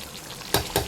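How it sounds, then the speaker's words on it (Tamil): A pot of curry bubbling and sizzling steadily, with two brief louder stirring scrapes near the end. "நல்லா கொதிக்கிறது பாருங்க"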